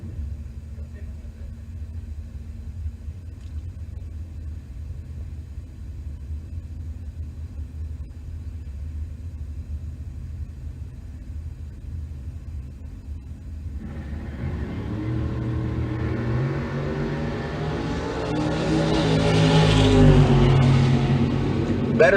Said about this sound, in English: Taylor in the Chevelle dialed at 667. Ortiz in the 81 Grand Prix dialed in at 618.